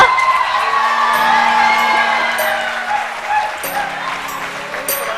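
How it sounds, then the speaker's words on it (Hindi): A studio audience at a live Ramadan iftar television show cheers, whoops and claps for a car prize winner, loud and crowded at first with shouting voices, then easing slightly while a tonal hum runs underneath. "तालियां बजाए जोरदार, गाड़ी जीत गई।"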